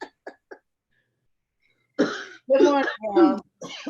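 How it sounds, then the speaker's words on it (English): Three short, soft coughs or throat clearings open the scene, followed after a pause by someone speaking a greeting. "Everybody's coughing."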